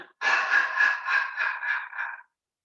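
A qigong breathing exercise: a series of breathy exhaled "ha" sounds, about six airy pulses in a steady rhythm, close and clear, fading out at the end.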